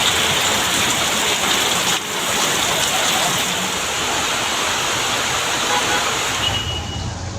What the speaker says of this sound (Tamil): சுற்றுலா தலங்களான கோத்தகிரி, கொடைக்கானலில் சாரல் மழை.